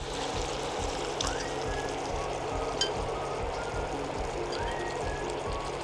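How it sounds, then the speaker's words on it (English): Half a cup of water goes into a pan of frying masala for a black pepper chicken curry, a steady soft pouring wash that lasts several seconds with no talking. "Add half cup of water in the pan."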